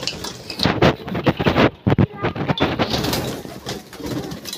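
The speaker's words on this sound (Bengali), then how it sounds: "এই রুটি খাচ্ছে পায়রা।" A flock of pigeons feeding on bread keeps up a close, busy mix of cooing, soft pecking and rustling, with occasional flutters of wings.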